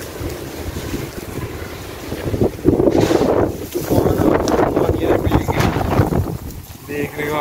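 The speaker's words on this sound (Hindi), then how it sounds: "कपड़े को देखिए कितनी अंधेरी चल रही है।" Strong stormy wind gusts in Sialkot roar in broadband blasts that swell and ease over several seconds, buffeting the microphone, with a person talking throughout.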